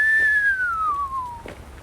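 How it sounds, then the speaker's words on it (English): A person whistles softly, one long sliding note that falls steadily in pitch over a little under two seconds, alone against quiet background hiss. "Who can look at that without whistling softly?"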